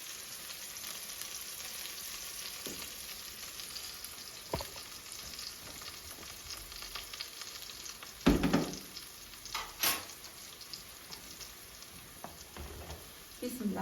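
Chopped onion sizzles steadily in hot oil in a home kitchen pan, a constant crackling hiss with occasional stirring clinks and louder bursts, while someone speaks at times.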